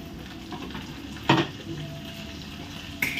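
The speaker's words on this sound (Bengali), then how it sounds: "পেঁয়াজ ভাজা হয়ে গেছে, আমি এবার মশলাটা দিয়ে দিই" Onions fry in hot oil with spices in a home kitchen pan, a steady soft sizzle running throughout, broken by a couple of sharp clinks of a utensil against the pan.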